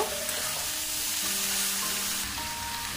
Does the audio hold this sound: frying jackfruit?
yes